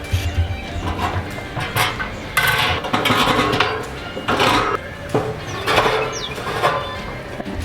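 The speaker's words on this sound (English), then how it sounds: "We're gonna set the rods in, set the grate in" Metal rods and a grate being set into a Pit Barrel Cooker outdoors, a series of sharp clanks and scrapes of metal on metal at close range, spread irregularly over several seconds.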